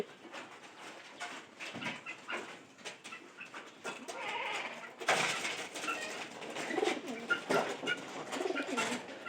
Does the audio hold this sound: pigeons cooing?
yes